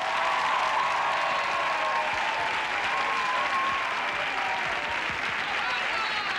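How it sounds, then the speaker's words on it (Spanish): Warm audience applause greets a Spanish singer as she arrives for a televised interview, a steady, full wash of clapping that holds evenly from start to finish. "Un fuerte aplauso para esta voz de la música española"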